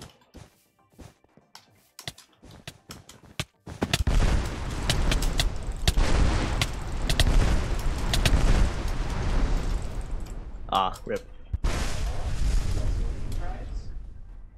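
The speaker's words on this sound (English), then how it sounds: "It's a lot of explosions." Bursts of explosions and fireball blasts in the video game Hypixel Bedwars, dense crackling booms filling most of the clip after a quiet start with clicking, while a player briefly speaks over the game.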